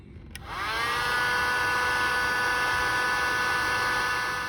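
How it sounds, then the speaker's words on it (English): A heat gun shrinks crimp wire connectors for landscape light fixtures, starting with a click and then a steady, close, whooshing fan drone with an electric hum that runs on without a break. "The next step is to take a heat gun and shrink the connectors around the wires."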